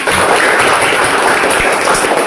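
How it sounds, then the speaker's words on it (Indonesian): Schoolchildren in a classroom clap again in sustained, loud applause. The clapping is thick and unbroken, with occasional heavier thumps standing out from the crowd. "Ya, silakan tepuk tangannya lagi"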